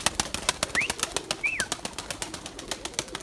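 Rapid, rhythmic flapping of Erzurum white pigeon wings, close and loud, with a couple of short chirps or squeaks in between.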